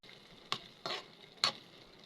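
A spoon stirring boiled potatoes and peas in a kadai wok for ghugni chaat: three short, quiet scraping swishes spaced apart over a faint hiss.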